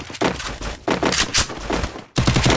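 Loud gunshots in a video game, a fast series of close, punchy bursts separated by short pauses, heavy and dense throughout.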